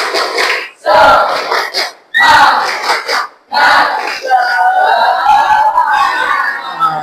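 Repeating a rhythmic clap chant, a group of teachers at a training session lets out loud bursts of unison clapping and shouting with short gaps, then a longer run of excited collective cheering and voices.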